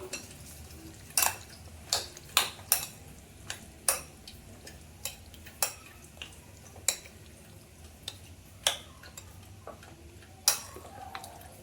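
A spoon stirs curd into a boiled chickpea salad in a bowl. Faint, scattered clinks and taps sound at uneven intervals over a quiet, hushed background.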